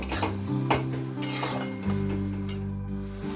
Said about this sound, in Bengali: টমেটোটাকে যতক্ষণ না কাঁচা গন্ধ থাকছে ততক্ষণ আমি কষে যাব